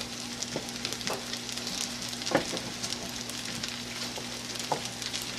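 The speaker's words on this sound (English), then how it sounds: "So we're going to let it fry till everything's nice and warm, apparently." Fried rice sizzles steadily in a pan, a continuous close crackling hiss with occasional louder pops and light scraping, and no talking.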